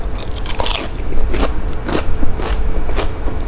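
Loud, close crunching bites and chewing of a spicy Thai salad of chicken feet and crisp organic vegetables, with sharp crackling crunches landing at a steady pace.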